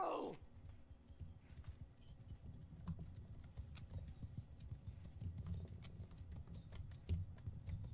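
Horse archers' hooves in the Bannerlord game clatter in a dense, continuous low rumble of many mounts galloping together, fairly close and steady.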